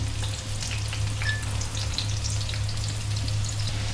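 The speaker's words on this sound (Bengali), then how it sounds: "এই পাশে ডাল বাগারের জন্য পেঁয়াজ রসুন ভাজা হচ্ছে" Onion and garlic fry in a pan for lentil tempering, a steady close crackling sizzle with scattered pops and light stirring, no talking.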